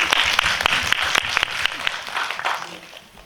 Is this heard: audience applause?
yes